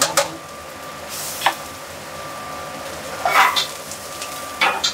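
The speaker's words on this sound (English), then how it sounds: "We're going to saute down some shallots that I have julienne here." Julienned shallots sauté in oil in a pan, making a soft continuous sizzle broken by a few brief scraping stirs.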